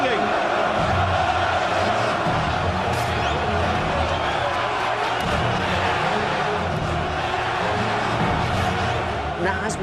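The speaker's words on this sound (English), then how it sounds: "Listen to this crowd," A boxing arena crowd chanting and singing, a dense, loud roar of massed voices that holds steady throughout.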